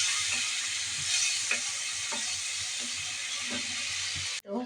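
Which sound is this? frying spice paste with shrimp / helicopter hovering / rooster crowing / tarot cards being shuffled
frying spice paste with shrimp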